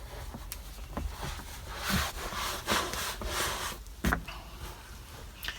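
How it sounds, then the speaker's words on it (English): A cloth wipes excess product off a leather seat in a King Ranch Ford truck with light, quick strokes, making a soft, close rubbing swish that rises and falls in short passes. "I just want to go over it real quick with the cloth just to get the excess"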